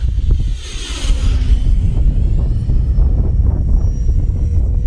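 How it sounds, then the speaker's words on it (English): A Freewing F/A-18C Blue Angels 90mm RC jet flies at throttle into a strong headwind, its ducted-fan whine sweeping past over heavy, loud wind rumble on the microphone. "Flying into a serious headwind, we got to throttle up."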